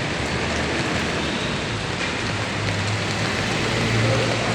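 Steady rain falls outside a house of worship during bad weather, an even, dense hiss of drops with no voices and no break for the whole stretch.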